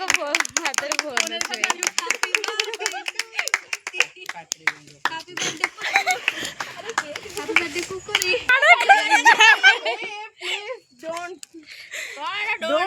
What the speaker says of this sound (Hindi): ताली मारना